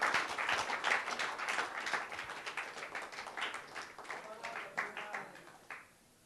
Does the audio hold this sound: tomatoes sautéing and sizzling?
no